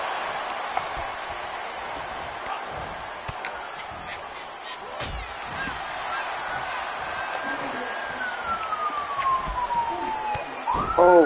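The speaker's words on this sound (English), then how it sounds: "sorry if you hear the ambulance call" An emergency siren wails outside, a faint rising and falling tone that holds and then sweeps down near the end, under steady background noise with a few sharp knocks and slams.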